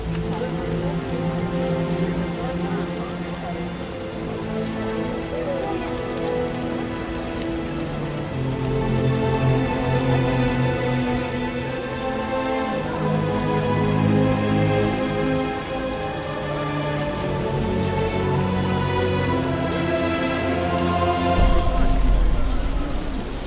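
Steady rain falls in The Witcher video game, a dense, continuous patter of drops on surfaces, under a layered, droning game music score that swells and fades, with no speech.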